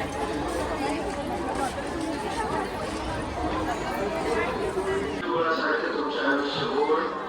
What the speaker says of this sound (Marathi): आता इथं बघ किती गर्दी आज.